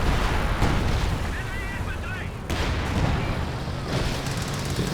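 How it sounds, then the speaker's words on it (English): Artillery fire in Company of Heroes 2 sounds as a dense barrage of booms and rumbling impacts, steady and loud throughout, with several sharper blasts standing out. "All sorts of artillery coming in."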